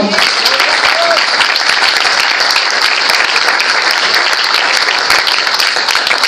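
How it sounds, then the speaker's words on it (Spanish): Loud, sustained applause from a large crowd, a dense steady clatter of clapping that fills the whole stretch without pause. "Un aplauso al Señor."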